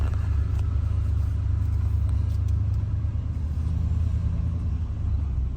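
A vehicle rolls slowly through a seaside campground lined with big fifth-wheel trailers, giving a steady low engine rumble and tyre noise that stays constant and close with no talking.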